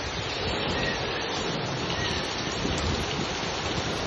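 Heavy rain pours steadily during a thunderstorm in Dubai, a dense, constant hiss of water hitting surfaces throughout, with no distinct thunder cracks and no voices.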